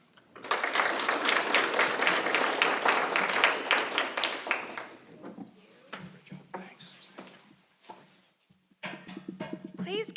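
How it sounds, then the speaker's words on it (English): An audience applauds a panel at an education event with a strong, steady burst of clapping for several seconds, then it fades to scattered claps and thuds as a voice speaks near the end. "Please give all our panelists a round of applause."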